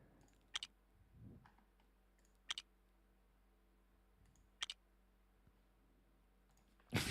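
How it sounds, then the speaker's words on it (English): Sharp plastic Lego brick clicks from a free sound effect, arriving in small clusters of two or three snaps at a time, spaced apart over a quiet background, with a louder burst at the very end. "Free Lego clicking, like that's the exact sound effect I want"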